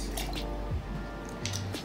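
Lemon juice is poured into a sour cocktail as a short, soft liquid trickle with a few drips, close but quiet over a low background hum.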